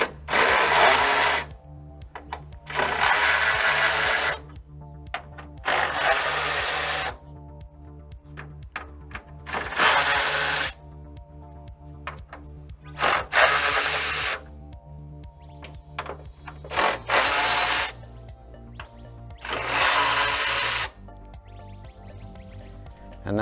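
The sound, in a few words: removing 7mm bolts from van grill with power tool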